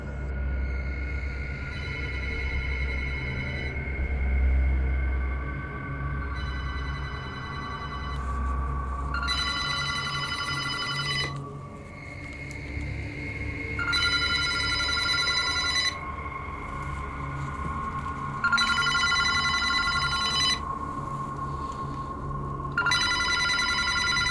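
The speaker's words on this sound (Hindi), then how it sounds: "एक पुराना जंग लगा हुआ फ़ोन बज रहा होता है" Old rusty telephone ringing in repeated electronic bursts, each ring a bright warbling tone separated by pauses, loud and close over low background rumble.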